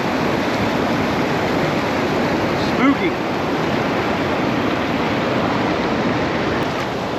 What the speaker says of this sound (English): I can see water flowing